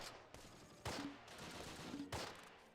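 Enemy gunfire in the Close Combat war game, heard as two sharp, moderately loud shots roughly a second apart over a steady background of distant battle noise.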